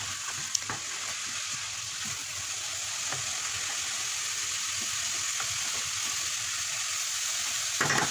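Mixed filling ingredients for stuffed msemen sauté in a pan, browning with a steady, close hiss of sizzling oil and a few light clicks of stirring, no voices.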